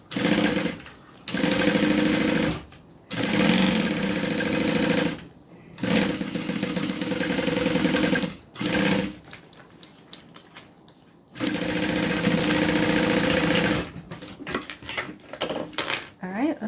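Sewing machine stitching the side seam of a crossbody bag indoors, running in several steady bursts separated by short pauses, close and moderately loud, with no talk.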